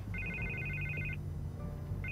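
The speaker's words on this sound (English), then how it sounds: "I can't get the phone to stop ringing." Office telephone ringing in a Batman video game, an electronic trilling ring that sounds for about a second, stops, then starts again, steady and clear over a low ambient hum.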